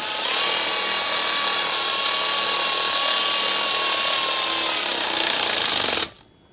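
Power tool loosening bolts on the fan of a 2012 BMW X5 diesel, a loud steady whirring buzz held for about six seconds before stopping abruptly, no talking.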